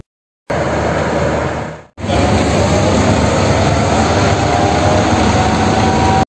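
A landing aeroplane produces a heavy, continuous rumbling roar, briefly interrupted by a short dip before surging back and holding loud and steady to the end.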